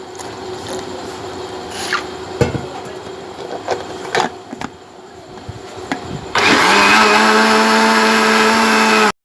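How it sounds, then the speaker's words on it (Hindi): An electric blender grinds pitted plums with sugar for sharbat, starting abruptly after clattery kitchen handling noises and running as a loud, steady high whine for about three seconds before cutting off. "अब इसको मैंने ग्राइंड करना है।"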